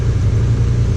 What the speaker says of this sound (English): Hear that? 4-liter, naturally aspirated, flat stick.